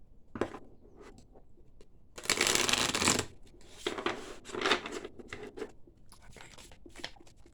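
Energy cards being shuffled and pulled: a long riffling shuffle bursts out loud for about a second, surrounded by shorter flicks, taps and sliding card sounds, close and without any talk.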